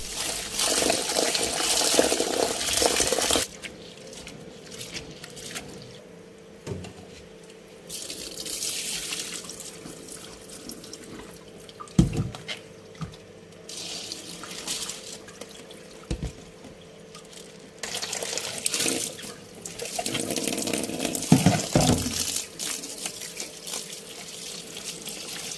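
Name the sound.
washing mung beans under running tap water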